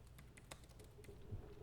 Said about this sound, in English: Regular typing, I don't really feel any type of, or see any flex either.